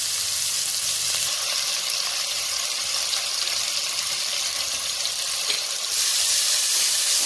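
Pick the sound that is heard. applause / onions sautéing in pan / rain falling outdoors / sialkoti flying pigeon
onions sautéing in pan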